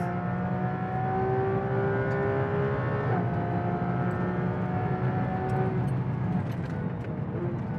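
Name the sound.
Porsche GT3 accelerating on race track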